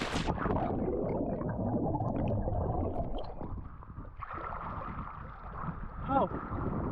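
Someone dives into cold sea water, around 17 degrees Celsius, at a secluded sandy beach, and the splash is followed by close, churning swimming sounds and gurgling water.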